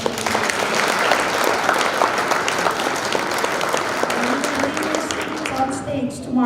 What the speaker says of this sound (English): Round of applause for Jessica.